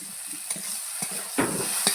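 Taro stolons fry in a pan with prawn-shell paste, giving a steady close sizzle punctuated by several sharp stirring scrapes.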